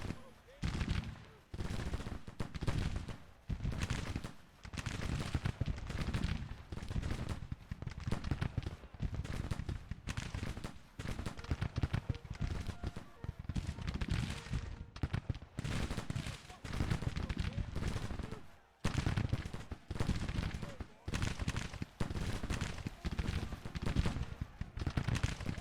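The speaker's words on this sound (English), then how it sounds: "Full brigade, just start firing at them, please." A full infantry brigade fires in the Civil War strategy game Grand Tactician: The Civil War, with dense, continuous crackling volleys of musketry, many rapid sharp reports in irregular bursts, fairly faint overall, with a voice talking at times.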